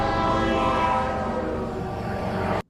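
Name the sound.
train passing in a video game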